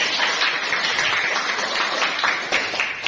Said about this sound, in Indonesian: berikan tepuk tangan untuk Santi.